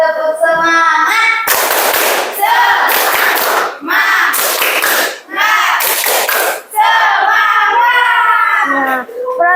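A school class chants the 'tepuk semangat' spirit clap, with sung group calls alternating with four loud bursts of rhythmic clapping by many children, all close by.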